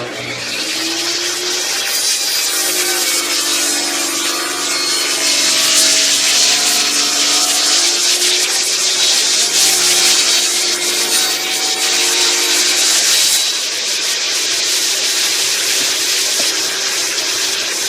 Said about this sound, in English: Got the blade raised just slightly over the size of the plywood, and we'll cut it in 4 sides.